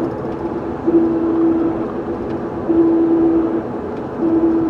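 A 2015 Ford F-150's rear differential drones as a steady low hum over road noise at about 40 to 45 mph. It swells in a few longer stretches as the driver goes on and off the throttle.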